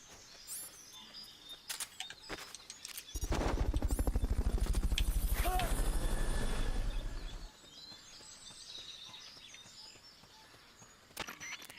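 Fulton recovery helicopter in Metal Gear Solid Peace Walker, a loud sustained rotor chop lasting several seconds before fading, with scattered faint game effects around it.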